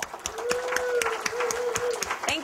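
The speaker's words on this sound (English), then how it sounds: "We'd like to give you a round of applause." Conference audience applauding volunteer presenters at an opening session, a steady wash of many hands clapping with crisp individual claps, a sustained tone running beneath.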